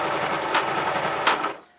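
A sewing machine runs steadily, lock-stitching a hem on nylon fabric with grosgrain ribbon, giving a close, continuous whirring buzz that stops abruptly near the end.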